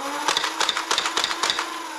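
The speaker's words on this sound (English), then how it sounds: "has a very clicky and smooth trigger because you're rotating the cylinder at the same time when you're pulling the trigger" Repeated crisp mechanical clicks from the trigger of a Dart Zone Savage Spin foam dart blaster as its cylinder rotates, about six evenly spaced ratcheting clicks close up with a faint steady whine underneath.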